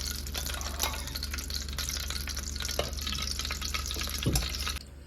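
Palm oil heats in a pan, sizzling and crackling steadily at close range with a constant hiss, then drops off abruptly just before the end.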